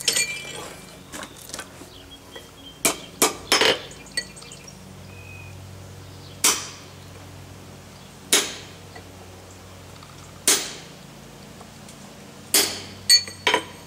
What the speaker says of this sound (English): I'm going to take my chisel